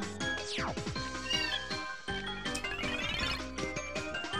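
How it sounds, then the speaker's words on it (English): A digital cat in the Super Paper Mario video game gives a clear, close meow that slides downward in pitch, layered over bright, busy in-game music. "Digital kitty, apparently."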